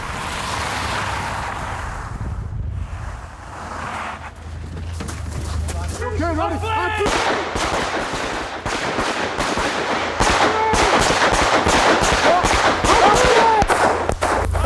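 Handgun shots ring out at a shooting range, a fast string of sharp cracks coming in bursts and growing denser toward the end, with people talking over the firing.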